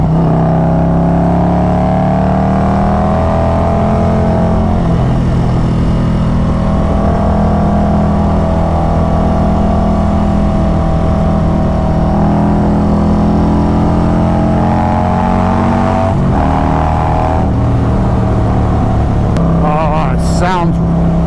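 A Harley-Davidson Road Glide with a Stage 2 setup and Khrome Werks Outlaw exhaust rumbles loudly and close, a deep steady idle with slow swells in engine pitch over about twenty seconds and a few brief sharper revs near the end.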